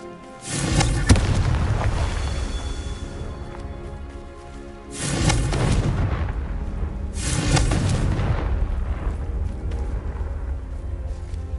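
Three big Confringo spell blasts from Hogwarts Legacy erupt one after another, each a loud booming burst with a rumbling tail, spaced a few seconds apart over continuous game noise.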